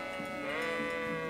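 Sheep bleat in the video game Kingdom Come Deliverance, a couple of wavering overlapping calls from a nearby flock, fairly loud over a droning ambient music bed.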